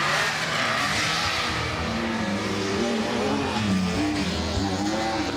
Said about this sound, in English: But really nice to have something as different as this here, Bex, in the shape of the Ferrari.